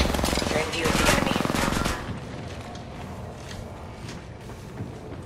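Rapid automatic gunfire in the mobile battle-royale game Apex Legends Mobile, a dense bright rattle of shots for about two seconds, then quieter scattered shots and game noise underneath.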